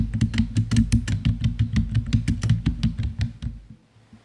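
Rapid, steady clacking of keys on a computer keyboard, close and fairly loud, recorded through a Rode PodMic USB microphone, continuing for a few seconds before stopping.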